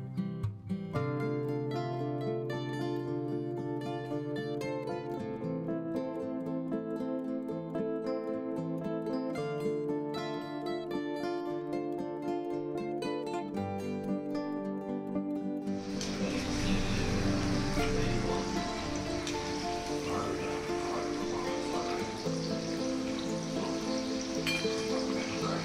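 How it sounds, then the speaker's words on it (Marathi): Spring rolls deep-frying in hot oil over a medium gas flame: a steady, hissing sizzle rises suddenly partway through and keeps going, with music playing underneath before and during it. "आता मीडियम फ्लेमवरच आपल्याला हे स्प्रिंग रोल आहे ते एक एक करून असे तळून घ्यायचे आहेत"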